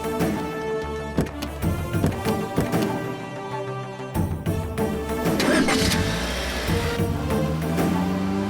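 A car engine cranks and catches, then runs steadily at a loud, close idle alongside music and other background sounds.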